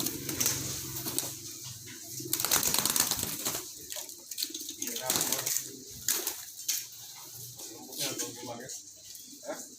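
A handled pigeon flaps its wings in bursts of rapid fluttering close by, while people talk over and between the flurries.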